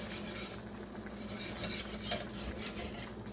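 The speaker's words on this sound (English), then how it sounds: "Just use your whisk in between the pork chops to" A whisk scraping and clinking against a pan of mushroom gravy with pork chops, soft repeated metallic stirring taps and a louder clink or two, faint and close under a low kitchen hum.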